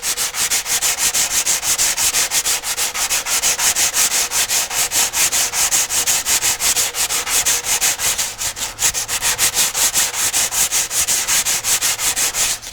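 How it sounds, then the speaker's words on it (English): Hand sanding glazing putty on a racing shell hull repair with 120 grit sandpaper makes steady, rapid back-and-forth rasping strokes, loud and close, with no talking. "We'll start with some 120 grit just to get it started, get the heaviest stuff off."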